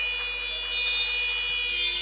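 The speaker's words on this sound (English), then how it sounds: "Shot clock violation as the buzzer sounds." A basketball shot clock buzzer sounds at a WBBL Championship women's game between Leicester Riders and Sevenoaks Suns, a steady electronic tone holding for about two seconds over faint arena ambience.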